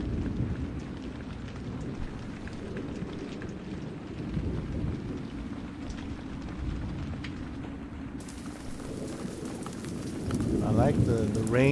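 Steady rain in the video game Silent Hill: The Town, made in Dreams on PS4, pours with a low rumbling undertone, continuous throughout, with a brighter mechanical hum joining near the end.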